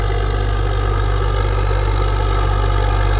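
Tractor with an 855 engine idling close by, a loud, steady mid-to-low drone with faint rhythmic knocking, continuous and alone without voices.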